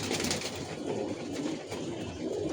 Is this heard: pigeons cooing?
yes